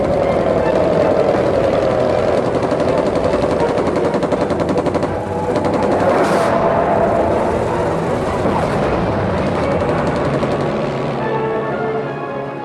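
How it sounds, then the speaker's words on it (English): A World War One aircraft machine gun fires a whole drum in one dense, loud, continuous rattle of rapid shots, close and unbroken for the full length, with an engine drone underneath. "He concentrated his fire onto one spot, emptying the whole drum of alternating bullets into an area at the stern."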